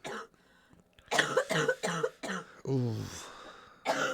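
A man at home watching a football match coughs in a run of harsh, close, rough bursts with a throaty clearing, after a brief exclamation.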